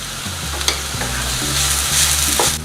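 Onion and garlic frying in a pan with a pinch of salt, a loud close sizzle with scraping stirs and a few sharp clacks of the utensil against the pan.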